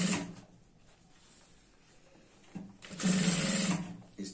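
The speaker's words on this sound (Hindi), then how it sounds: "यहाँ पर हमें एक लब की सिलाई लगानी होगी इस तरह से" A sewing machine stitches a seam on a girl's skirt in quick bursts, a loud run at the start and another near the end with quieter handling of the fabric between them.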